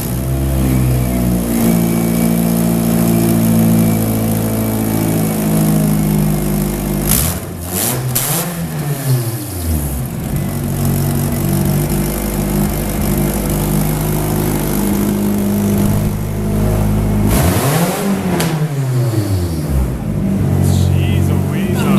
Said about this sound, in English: we'll have John fire it up and see how it runs